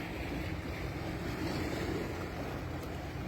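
Sea waves wash steadily against the shore, a continuous broadband rush with wind buffeting the microphone, heard where racing pigeons are being shown the sea for training.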